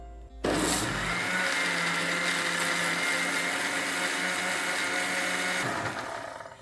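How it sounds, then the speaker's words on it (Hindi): A kitchen blender whirs continuously for several seconds, blending green chutney with yogurt, loud and steady after a brief start, then winding down at the end. "सिर्फ इसकी चटनी तैयार करने के लिए अब इसे कवर करेंगे"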